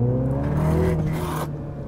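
Engine and exhaust of a 2023 MINI John Cooper Works Cabrio, a 320 Nm car with a raspy exhaust note, heard alone as a loud, close whirring engine roar that swells briefly in the middle and then eases.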